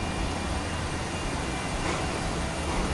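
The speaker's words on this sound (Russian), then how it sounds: "Самолет." A passenger airliner's engines give a steady, loud, broadband roar during boarding, continuous and even with no voices over it.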